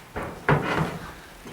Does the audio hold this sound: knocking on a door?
yes